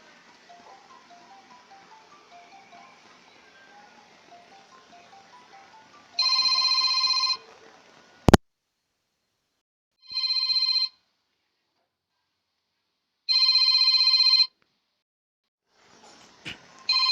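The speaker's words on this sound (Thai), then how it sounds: "สายก็กำลังโทรออกเลยครับ" Faint background chatter gives way to loud electronic ringback tones repeating in bursts with silent gaps, broken by a sharp click between rings.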